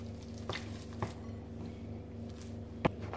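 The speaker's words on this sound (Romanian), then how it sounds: "Acum amestecăm brânzica cu strafidie și cu gălbenul de ou." Soft cheese, raisins and egg yolk for a traditional pasca are stirred together in a bowl, giving a few soft squishy taps and scrapes over a steady low background hum.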